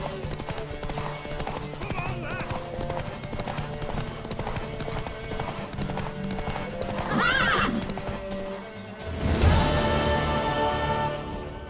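Horse hooves clip-clop steadily on the ground in The Witcher 3, over a continuous music bed, followed by a loud whinnying neigh near the end.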